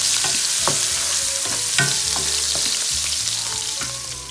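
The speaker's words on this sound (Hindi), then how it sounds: "फिर आधा प्याज डाल के उसको अच्छे से गोल्डन फ्राई कर देंगे।" Sliced onion fries in hot oil with cumin, bay leaf and asafoetida, giving a loud, continuous sizzle up close, broken by the clatter of stirring, with no talking.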